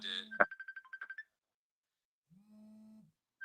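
A phone plays a musical ringtone: a quick run of bright beeping tones, then a short pause and a sustained hum-like note, heard alone with no talk.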